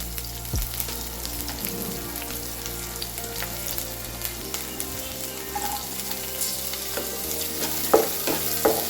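Steady sizzling of onions frying in a pan, continuous and close, with occasional stirring scrapes and clinks.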